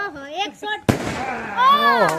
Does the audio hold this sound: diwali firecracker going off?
yes